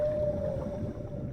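In the underwater game Dave the Diver, a baby humpback whale sings a single long, thin sustained tone over a low murky watery rumble.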